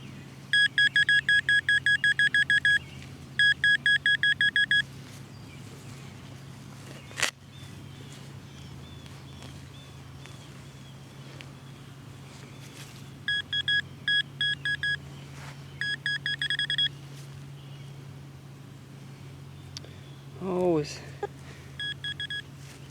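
A metal detector sweeps over buried aluminum near a house's front porch, sounding clipped bursts of rapid high beeps at the start and again midway, over a steady low hum with a sharp click in between.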